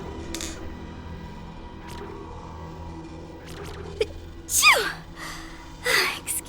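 A person sneezes twice, two sharp bursts close together, against a quiet background of video game sound while streaming Dead Space.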